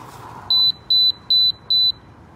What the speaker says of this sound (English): What's with the beep?